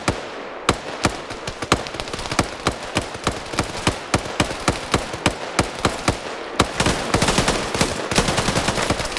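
A PKM machine gun fires in a video game, firing long rapid bursts of sharp, evenly spaced shots that are loud and close and continue almost without a break.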